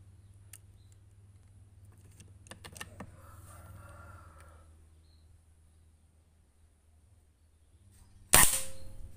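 After several seconds of faint clicks and quiet handling, an air rifle fires a boxed pellet at a grouping target, a single loud, sharp crack near the end with a short ringing decay.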